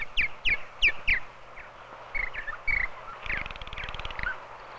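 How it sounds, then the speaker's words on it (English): Purple martin song: a series of gurgling, chirping notes and rough croaks in short bursts with gaps between them, fairly close, and no talking. "Listen to the song of the purple martin."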